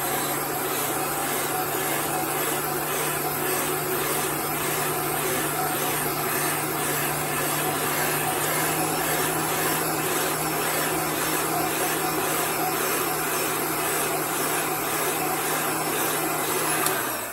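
A heat tool blows steadily to dry chalk paste on a wooden sign, a continuous loud whirring roar with a fixed hum that holds unchanged throughout, close by with no talk.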